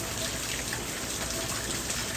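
Steady heavy rain in a garden, a thick, continuous patter and hiss near at hand with no voices, unchanging across the brief moment.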